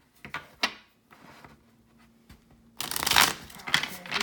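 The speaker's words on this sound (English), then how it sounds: "Get this nicely shuffled for Pisces for the last 2 weeks in June." Tarot cards are shuffled by hand: a few soft taps and slides first, then a rapid, close riffle of cards that runs to the end with no voices.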